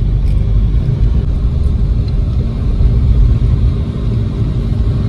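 Inside a manual-transmission car during a driving lesson, the engine gives a loud, steady low rumble throughout a gear shift, with no distinct revving.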